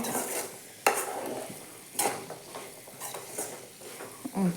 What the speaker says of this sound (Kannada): ಇದು ಪಾತ್ರೆಗೆ ಒಗ್ಗರಣೆ ಕೊಟ್ಟೀನಿ